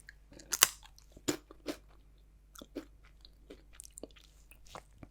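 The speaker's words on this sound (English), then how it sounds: "For the record, they're salt and vinegar." Salt and vinegar crisps crunch loudly in close-up bites and chews, sharp irregular crackles separated by quiet pauses in a hushed ASMR setting.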